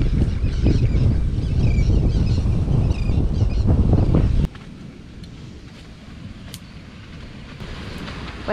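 Loud, steady wind roars and buffets the microphone for several seconds on a sand cay on the Great Barrier Reef, then drops to a softer, continuous rush with a few faint clicks.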